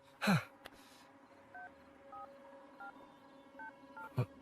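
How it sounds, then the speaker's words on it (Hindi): Telephone keypad dialing tones, a sequence of short beeps at an uneven pace, fairly faint, with a couple of sharp handling clicks near the start and end. "एक बार कॉल लगाना प्लीज"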